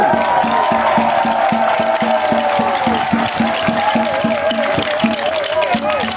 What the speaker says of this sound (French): Applaudissez le président Laurent Gbagbo.